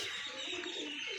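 Pigeons cooing in a rooftop loft, soft low throaty coos repeating under a bright, constant background hiss, fairly faint and without any voices.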